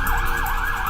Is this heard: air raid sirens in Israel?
yes